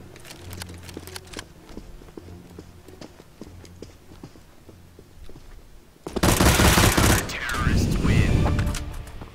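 Gunfire in the video game CS:GO: a burst-fire weapon cracks as quick sharp shots over faint ticking, followed by a loud dense rattle of rapid fire lasting several seconds.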